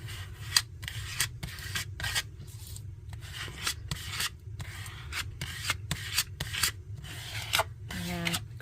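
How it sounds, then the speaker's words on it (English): A hand tool burnishes folded paper freshly glued for a toast-themed craft, giving a close, steady rubbing and scraping in repeated short strokes. "Kind of burnish it good here"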